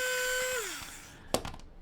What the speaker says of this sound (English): So I should be able to drill straight into this